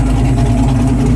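A carbureted engine idles steadily in a shop while its idle and air mixture are adjusted, giving a continuous low, even rumble with no speech over it.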